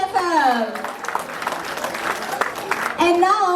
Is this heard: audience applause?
yes